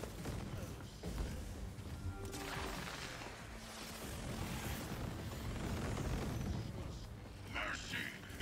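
Gash antipersonnel grenades explode in the video game Cyberpunk 2077, a dense run of booming blasts and crashing debris that rolls on for several seconds under excited talk.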